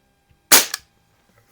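A Sheridan F series CO2 Blue Streak air rifle fires one sharp, loud crack, followed almost at once by a short ringing hit on a can outdoors, then quiet.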